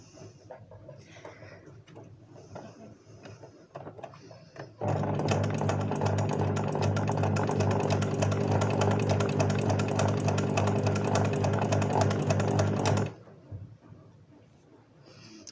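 A sewing machine stitches embroidered lines, running in one fast, steady mechanical whir with a rapid needle clatter for about eight seconds before it stops, with quiet room sound before and after.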